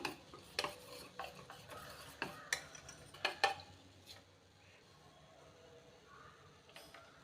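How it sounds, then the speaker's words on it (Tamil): Katori chaat batter being stirred smooth in a bowl: a series of close, light clinks and scrapes of a spoon, irregular at first, then fading to quiet mixing. "கட்டைகள் இல்லாமல் இப்படி கலக்கி வச்சுக்கோங்க"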